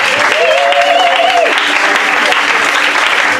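Loud, dense applause and cheering fill a church service, the congregation clapping continuously for the Lord while a preacher's voice rises over the crowd.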